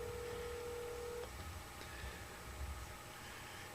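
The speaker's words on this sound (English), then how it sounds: "so let's get him on the phone right now." Telephone dialing tones sound on a morning TV show as a call is placed: a steady tone holds for about a second, then stops, leaving a faint, noisy line hiss with a high whine.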